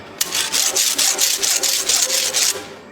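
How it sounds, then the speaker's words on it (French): A hand rasp scraping burrs off forged metal moldings for chapel grilles: a steady run of about ten rhythmic rough strokes, close and loud, with no talk. "ces bavures, hop, on les enlève tout de suite à la râpe"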